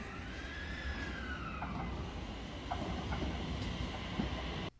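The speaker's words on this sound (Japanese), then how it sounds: "ここで横須賀総武快速が来ます" A Yokosuka-Sobu Line rapid train pulls into Soga station at night or early morning, a steady rolling rumble with a drawn-out brake squeal and faint rail clicks before cutting off.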